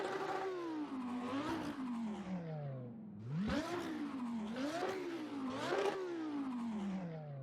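A Lamborghini Temerario in the Assetto Corsa racing game revs repeatedly, its engine note sweeping up and falling back in several loud, rising pulls heard from outside the car, with no talk.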